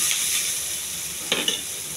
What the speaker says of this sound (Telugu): కరివేపాకు అండి, పచ్చిమిర్చి, కోసి పెట్టుకున్న ఉల్లిపాయ ముక్కలు, ఇవన్నీ కొంచెం త్వరగా ఎగించాలి